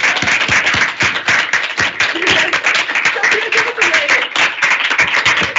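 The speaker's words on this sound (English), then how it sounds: "So everyone give her a round of applause" Audience applauding at a full senate meeting: dense, continuous clapping from a crowd, fairly loud and steady throughout, with a few voices mixed in.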